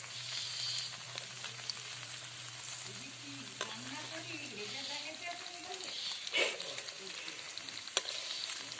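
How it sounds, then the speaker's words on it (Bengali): Paneer cubes fry in a pan with a steady, soft sizzle and a few sharper spatters, while someone talks over the cooking throughout. "এই যে এখানে এটুকু ভাজা হবে, তারপরে এক পিঠ হয়ে গেছে, আর পিঠ হলে হয়ে যাবে পনিরটা"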